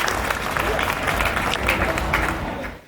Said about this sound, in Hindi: मैं उसे बुलाऊं इससे बेहतर है आपकी तालियां बुलाएं